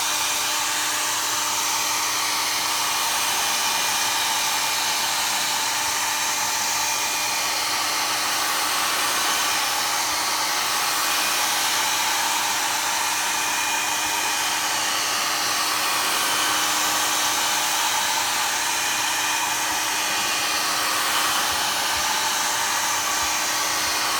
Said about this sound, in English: we've just got a new heat gun and it is very noisy.